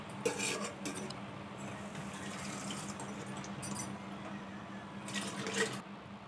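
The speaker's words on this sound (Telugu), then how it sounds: "ఇలా వేగిన తర్వాత మనం ఒక ప్లేట్లోకి తీసి పెట్టేద్దాం పక్కన పెట్టేసుకుందాం" Fried apple pieces being moved from a pan to a plate while making apple halwa, with scattered metallic scrapes and clinks of utensil against cookware over a steady kitchen background hum.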